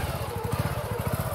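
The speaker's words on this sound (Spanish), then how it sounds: "Vamos a ver si arranca la moto." Motorcycle engine running at idle with a fast, steady low putter and slight clatter, close and continuous throughout.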